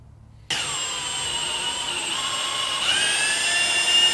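A power drill starts abruptly and whines steadily up close, its pitch shifting slightly as it bites, running continuously for several seconds.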